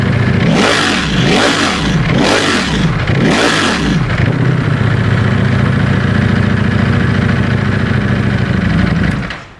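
A V4 motorcycle engine revs sharply four times in quick succession, then drops back to a steady, rumbling idle nearby.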